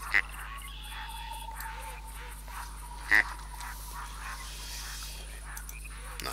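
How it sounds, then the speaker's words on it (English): A Godwell short range duck caller in the hunting game theHunter gives two brief, sharp quacks, one at the start and one midway, over a steady low ambient hum. "you also have a Godwell short range caller."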